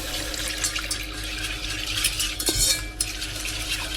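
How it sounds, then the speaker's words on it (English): Rolled oats are whisked into boiling water in a pot for porridge, giving a steady scraping, sloshing stir with light metallic clinks over a continuous bubbling hiss at close range, with no talking. "When it's boiling, we add the rolled oats and we whisk."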